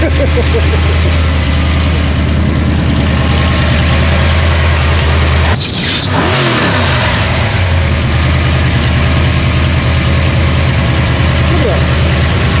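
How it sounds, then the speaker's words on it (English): Steady close idle of a Chevrolet S10 truck fitted with a 302 HO small-block Ford engine, a deep even rumble throughout, briefly masked midway by a short burst of wind-like noise. "Look how good it's idling now."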